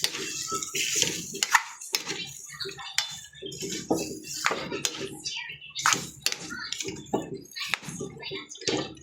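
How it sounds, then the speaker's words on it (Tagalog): A utensil stirs chicken with soy sauce in a pan, clattering and scraping against the metal in a steady, busy rhythm while a person talks over it. "Haluin natin guys."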